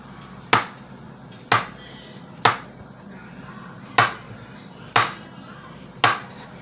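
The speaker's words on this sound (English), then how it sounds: "I'm going to cut these plantains so I can fry them." A knife slicing soft plantains against a cutting board, six crisp, evenly spaced chops about a second apart, each a sharp near knock with a brief decay, no voices.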